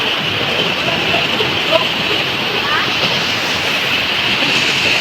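Malabo Falls waterfall pours in a steady, dense roar that fills the whole stretch without a break, heard close and loud under faint voices.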